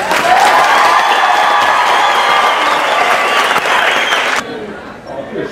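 A graduation crowd at San Diego City College applauds loudly with some cheering, a dense wash of clapping that cuts off sharply near the end.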